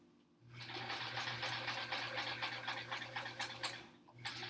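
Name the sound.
sewing machine stitching quilt block sections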